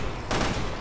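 Gunfire in the video game Resident Evil Revelations 2: a brief, loud burst of shots over steady game ambience.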